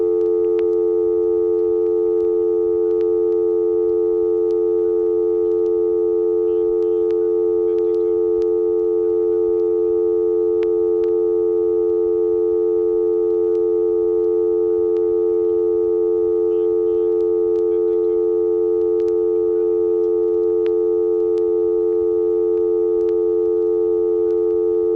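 Steady, unbroken dial tone from an ITT Pentaconta crossbar telephone switch in Asheboro, North Carolina, holding at an even level throughout, with faint flickers of crosstalk in the background.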